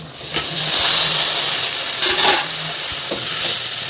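Tomatoes drop into a hot oiled pan with kasuri methi, giving a loud, steady sizzle and hiss with a few scraping stirs and a bright burst of spitting midway, no voices.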